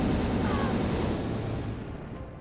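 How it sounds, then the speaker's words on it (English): Fireworks go off in a strategy video game battle with lizard units and an airship, a loud dense rumbling burst of explosions that slowly fades over a couple of seconds. "Fireworks."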